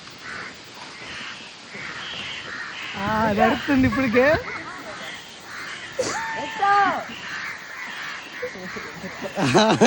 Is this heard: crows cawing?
yes